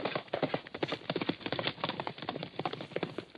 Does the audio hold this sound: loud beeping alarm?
no